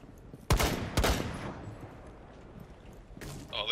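Two sharp, loud gunshots crack close together in Rainbow Six Siege, each trailing off with a ringing tail, and a fainter shot follows a couple of seconds later over quiet background noise.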